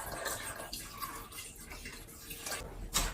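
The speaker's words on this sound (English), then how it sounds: "I'm gonna add some water to it." Water poured from close by onto persimmons and sugar in a pot, a continuous soft splashing rush with a louder splash near the end.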